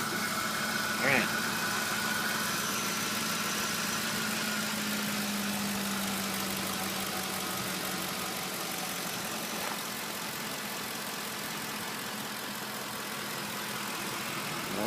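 A 2007 Ford F150 4x4 engine idles under the open hood, giving a steady, continuous rumble and hum that barely changes through the whole stretch.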